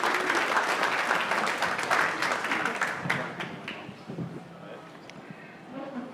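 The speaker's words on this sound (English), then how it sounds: "Please give them a big round of applause." Audience applause for speakers at a Bitcoin treasuries conference in New York, strong clapping that thins and fades toward the end, with a voice starting up under the last moments.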